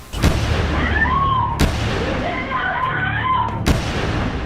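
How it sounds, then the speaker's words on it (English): Three sharp gunshots crack out at irregular intervals, loud and close, with faint wavering tones and muffled sounds in between. "The alarmed operator can hear gunfire in the background."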